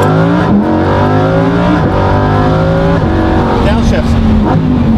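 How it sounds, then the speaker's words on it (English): A Lamborghini Evo engine revs hard through several quick upshifts, its loud, close roar climbing in pitch and then dropping sharply at each gear change, with a voice talking over it. "Listen to this, watch. Up shifts."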